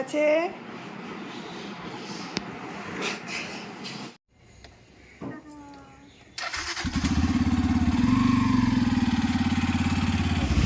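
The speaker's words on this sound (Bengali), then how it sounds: "আমরা বাইকে করে যাচ্ছি" A motorcycle engine starts partway through and settles into a loud, steady running rumble close by. Before it starts, voices and light handling noises are heard.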